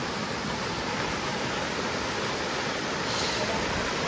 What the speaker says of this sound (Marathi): इथे देखील बघा कसा पाणी वाहतंय मस्त